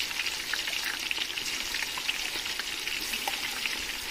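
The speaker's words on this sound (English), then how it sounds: "Gonna stir." Tomato paste is stirred into a simmering chicken stew, a soft, even bubbling sizzle with faint crackles and light stirring, fairly quiet and close with no speech.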